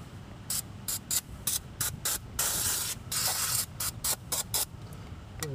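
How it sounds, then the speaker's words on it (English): Brake cleaner is sprayed onto a brake rotor in repeated short hissing bursts with one longer spray, close and fairly loud, with no talking. "Give it a quick spray down."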